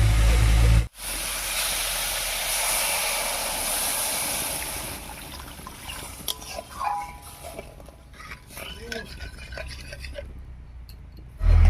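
Hot water poured into a hot pan of spiced red lentils (masoor dal), giving a loud steamy hiss that begins with a sharp burst and slowly fades over several seconds.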